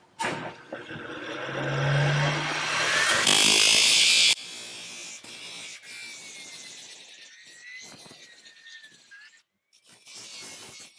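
An angle grinder cuts off overlong screws protruding from a hospital plate on a horse's hoof, with a loud sustained whine for several seconds, then a sharp burst of bright grinding noise, followed by quieter workshop clatter.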